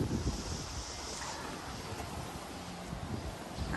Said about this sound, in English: Getting some pretty high gusts going on out here.